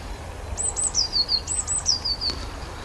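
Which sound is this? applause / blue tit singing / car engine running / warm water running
blue tit singing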